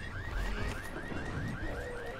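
A car alarm going off in the zombie game Dying Light, a repeating rising electronic whoop cycling quickly and steadily over a low rumbling background.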